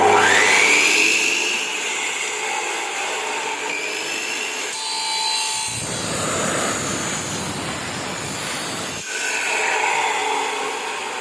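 A machine cutting metal grating, a steady harsh grinding whine that shifts into a louder rough, buzzing cut partway through, then eases back, with no talking.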